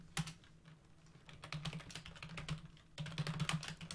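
Rapid typing on a computer keyboard, a dense run of clicky keystrokes in quick bursts with a brief pause midway, close and fairly quiet with a low steady hum underneath.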